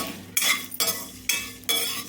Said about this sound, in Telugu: చూడండి గసగసాలు చెట్టుపట్లాడుతున్నాయి